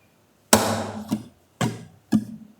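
Rumba strumming on a Spanish guitar: four sharp percussive strokes in an uneven pattern, each a bright attack that quickly fades, the first and third louder and fuller, played alone up close.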